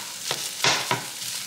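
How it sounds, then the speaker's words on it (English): Chopped cilantro is stirred into cooking meat in a pan for a Dominican dish: three short, close scraping strokes over a faint sizzle, with no voices. "So I just chopped up some cilantro and I'm mixing it in the meat"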